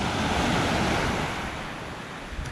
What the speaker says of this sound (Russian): чтобы вы послушали шум моря